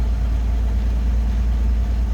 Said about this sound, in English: Nice responsive, good running engine.